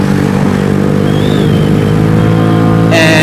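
A Venom X18 motorcycle engine runs loud and steady at high RPM, a continuous close drone with a rising whine and a brief sharper surge at the end.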